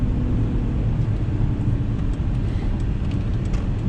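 Low, steady engine drone of a 2020 Mercedes-Benz GLS 450 with its turbocharged straight-six, heard from inside the cabin on throttle as a continuous rumbling hum mixed with road noise, no talk.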